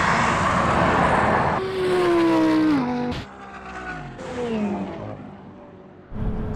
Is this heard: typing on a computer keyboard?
no